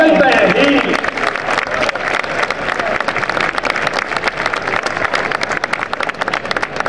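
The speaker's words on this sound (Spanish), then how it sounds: "Un aplauso para ellas, por favor." Loud, sustained applause from a crowd at a fashion show, dense clapping filling the whole stretch, with some cheering voices rising at the start.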